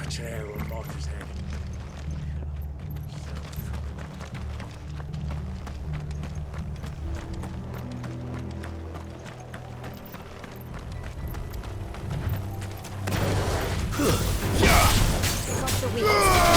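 Horses gallop in the Final Fantasy XVI video game, hooves pounding in a rapid, steady clatter under dialogue and game music, swelling into a louder, rougher rush of movement toward the end.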